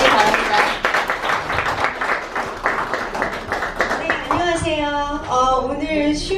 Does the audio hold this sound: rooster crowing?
no